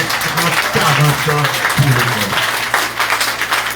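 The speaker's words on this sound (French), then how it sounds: "Applaudis les progrès qui ont été faits depuis les 20," Audience applause fills the room with steady, dense clapping from start to finish, while someone speaks over it in French, his voice sitting on top of the crowd noise.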